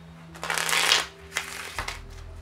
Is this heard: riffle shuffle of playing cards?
yes